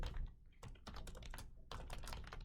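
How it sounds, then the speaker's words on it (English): Quick bursts of close keystrokes on a computer keyboard while code is entered, clicks tumbling in uneven clusters with a short pause midway and no voice. "So we would type in user equals int input"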